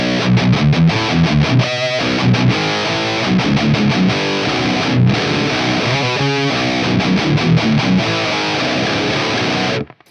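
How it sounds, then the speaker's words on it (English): A loud, gritty electric guitar through an amp with a Tube Screamer overdrive pedal riffs steadily, chugging chords and runs for about ten seconds before stopping abruptly. "Let's add a tube screamer."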